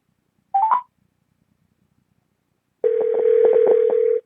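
Touch-tone keypad tones from a telephone as a call is placed: one brief pair of beeps, a pause, then a rapid run of dialing tones lasting over a second, clear and close with no talking.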